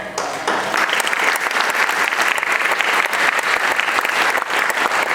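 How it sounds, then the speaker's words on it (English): Steady applause from an audience at a Bharatanatyam arangetram dance debut, many hands clapping continuously throughout, with no pauses. "a big round of applause"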